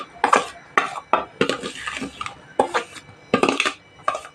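Ingredients stirred into a pot of boiling syrup on a low flame, with repeated close scraping and clattering of a spoon against the pot in short rhythmic bursts.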